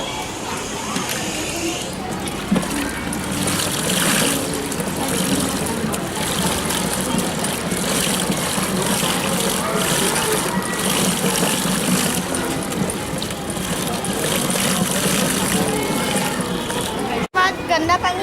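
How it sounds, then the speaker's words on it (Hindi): A bicycle-powered washing machine churns clothes in water, giving a continuous sloshing, gushing wash noise with mechanical rumble throughout, while a person talks over it. "देखिए जब अपन इसमें कपड़े डालते हैं तो कपड़े कैसे धुलते हैं"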